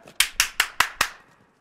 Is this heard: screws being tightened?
no